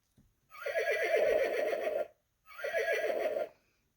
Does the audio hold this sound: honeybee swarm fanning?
no